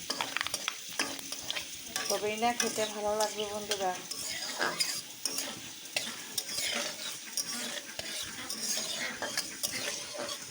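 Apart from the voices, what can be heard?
panch phoron spices frying in a pan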